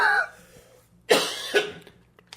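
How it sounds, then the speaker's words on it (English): A person coughs twice in quick succession, two sharp, fairly close bursts after a short faint sound, with no talking. "I don't know why I started coughing like I was dying."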